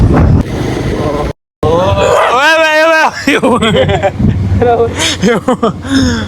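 A dog barks and whines in a short yelping burst, close by, while people talk loudly over it.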